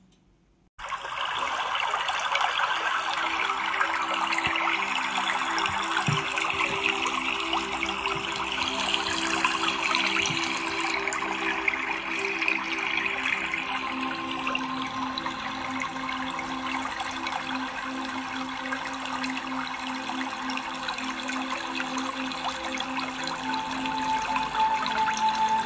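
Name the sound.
Achakanya waterfall on the Sharavati river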